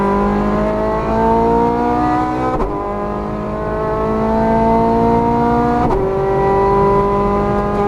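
A Ferrari F430 Scuderia accelerates hard at full throttle on the track at Exotics Racing Las Vegas, its loud rising engine note climbing through two quick upshifts, heard close from inside the car.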